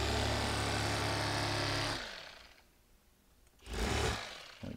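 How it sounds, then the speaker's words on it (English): An electric fillet knife buzzes steadily while cutting a large trout, then stops, followed by a shorter second burst of the motor a moment later. "For an electric fillet knife on a trout, that's just unbelievably clean."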